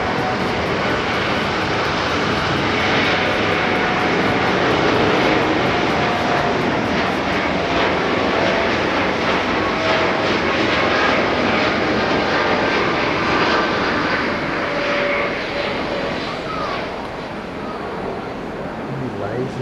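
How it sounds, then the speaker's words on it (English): A passenger airplane taking off at Haneda Airport, heard as a loud, steady jet roar that holds for about twenty seconds and eases off only slightly near the end. "Really lazy takeoff, wasn't it?"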